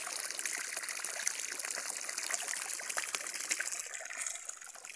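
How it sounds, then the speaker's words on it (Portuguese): Water falls steadily into a low fish tank, a continuous close splashing trickle with no voices over it. "esta água caindo aqui vai ajudar bem esse tanque aqui"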